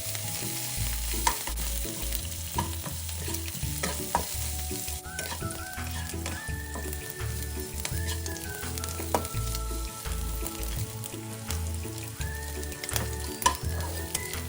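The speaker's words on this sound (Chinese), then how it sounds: "再加入预先备好的1大匙蒜末， 泡软后的辣椒干，控干水分，一起加入热锅内炒香" Minced garlic and softened dried chilies stir-fry with meat slices in a hot wok, a steady loud sizzle under constant spatula scraping and tapping, close up with no voices.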